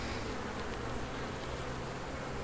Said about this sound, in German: ansitzenden Bienen, die kommen jetzt raus